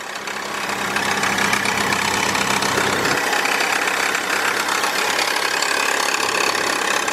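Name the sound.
2002 Kia Optima engine idling roughly with misfire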